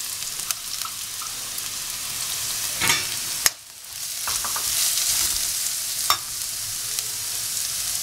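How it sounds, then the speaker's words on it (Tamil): Onions sauté in a pan for egg kothu parotta, giving a steady soft sizzle. Several sharp scrape and clatter hits from a utensil break through, with a short dip partway through. "இப்போ நான் வெங்காயத்தை வதக்குறேன்."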